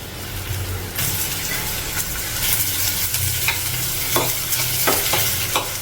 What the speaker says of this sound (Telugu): ఇప్పుడు ఉల్లిపాయ ముక్కలు వేసుకోవాలి